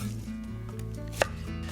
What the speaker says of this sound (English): I'm gonna cut up our onion just roughly so that it fits in our blender.